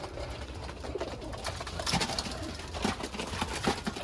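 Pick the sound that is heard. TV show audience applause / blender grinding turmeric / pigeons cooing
pigeons cooing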